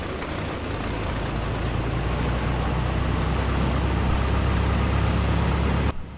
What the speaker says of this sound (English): we advance the mixture, let off the starter, bring in the throttle a bit to help bring it to 1000 RPM